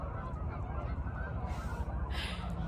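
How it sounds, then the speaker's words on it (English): Geese honk as a flock flies in, a chorus of nasal calls over a low, constant rumble of wind or ambient noise, moderately loud and sustained throughout. "Oh my gosh, the geese are coming in."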